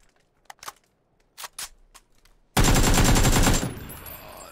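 Gunfire in the video game PUBG: a few scattered single shots, then a loud sustained burst of rapid automatic fire that fades into a hissing tail, close and dominant with no talking over it.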